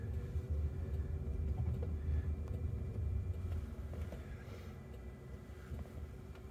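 An autonomous car with no one in the front seat pulls away and drives through daytime San Francisco streets, a steady low engine and road rumble with some wind noise, fairly loud and continuous.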